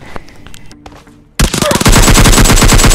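Gunfire in PUBG Mobile Lite from a close-range gun on a rooftop: after some quieter game sounds, a loud, rapid burst of automatic shots rattles on continuously for well over a second.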